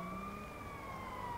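Emergency vehicle siren inside a video game, a steady wailing tone sustained throughout, fairly quiet against a dense background with no talk.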